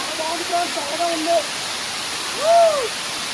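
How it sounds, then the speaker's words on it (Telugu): A waterfall in a natural setting gives off a steady, even rush of falling water, with a few brief rising-and-falling whistle-like calls sounding over it. "చాలా బాగుంటుంది ఈ వాటర్ ఫాల్ చూడడానికి"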